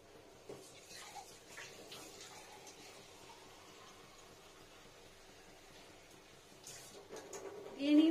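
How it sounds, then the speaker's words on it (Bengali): Filtered water poured into a pot of mung dal for boiling, a steady moderate splashing stream through most of the clip, with a louder gush near the end; no talk. "দেখুন জলটা দিয়ে নিলাম, ডালটা সেদ্ধ হবে।"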